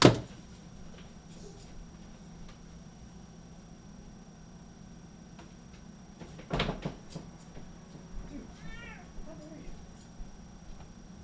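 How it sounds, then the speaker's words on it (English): A cat throwing up indoors: a sharp thump, then a quiet stretch, then a series of strained gagging and heaving sounds close by, with no talking. "Cat's throwing up"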